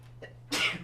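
A single short, sharp sneeze bursts out near the microphone in an algebra classroom over a faint steady hum.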